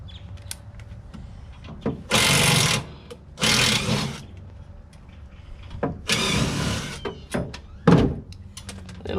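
Short drill bit boring into a stainless steel deep fryer shell, several loud bursts of grinding drilling lasting a second or so each, separated by clanks and handling knocks, close up.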